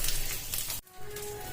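Chopped onions dropped into a pan over a low flame with green chilies, giving a steady close broadband sizzle that briefly dips, then resumes with fresh frying crackle.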